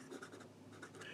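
A fountain pen with an 18 karat gold medium nib scratches softly across paper in short, close strokes, quiet and dry with no talking.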